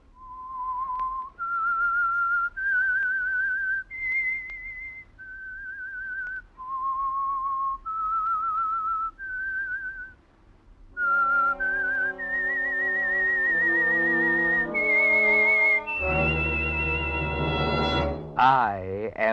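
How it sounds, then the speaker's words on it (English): Whistled signature tune for The Whistler, a 1948 radio mystery program: a lone, clear melodic whistle of sustained notes rising and falling, joined partway through by a swelling orchestral accompaniment that builds to a loud close. "That whistle is your signal for the Signal Oil Program"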